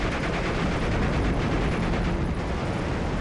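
Dense battle gunfire from Steel Division: Normandy 44, with continuous crackling rifle and machine-gun fire, loud and unbroken with no voices.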